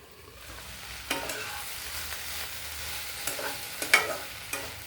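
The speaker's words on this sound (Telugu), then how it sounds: "కొంచెం బెండకాయలో జిగురుందేమో అది పోయేదాకా కొంచెం వేగించుకుంటే బాగుంటుందండి" Okra frying in a pan gives a steady close sizzle, broken by occasional scraping stirs and sharper metallic clinks of a spoon, no voices.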